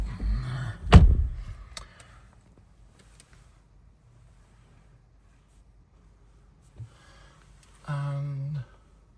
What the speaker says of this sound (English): I'm going to shut this door up.